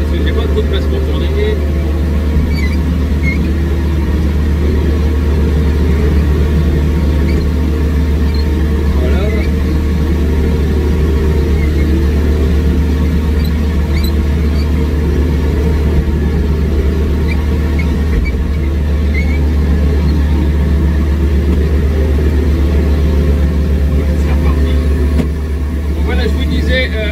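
A tractor spraying vines in a Champagne vineyard hums steadily with a constant low engine drone and sprayer noise throughout, close and loud, with someone talking over it.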